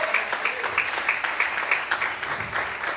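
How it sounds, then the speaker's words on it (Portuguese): A church congregation applauds during a sermon, many hands clapping fast and steadily in a dense, moderately loud burst that holds throughout. "aplauda ao Senhor bem forte, aleluia. Mais aplausos a Deus."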